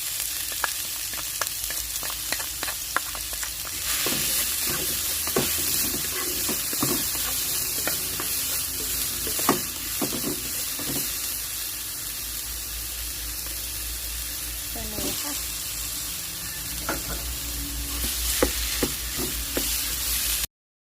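Chili stir-frying in a pan at the start of a Thai dish of fresh bamboo shoots with minced pork, a loud continuous sizzle with intermittent scraping stirs throughout, no talking.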